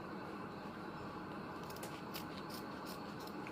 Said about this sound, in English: and then trim off some of the edges